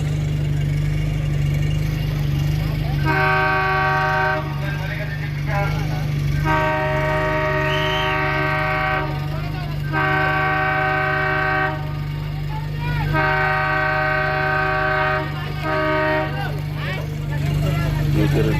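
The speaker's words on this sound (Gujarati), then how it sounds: "ટ્રેન પણ આવી છે ત્યારે એ હું આપને બતાવું છું" Long blasts of a train horn sound in four repeated bursts over a steady, loud rumble of a train in a railway yard and background noise, after a goods-train wagon derailed.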